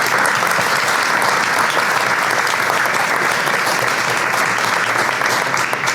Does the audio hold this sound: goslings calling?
no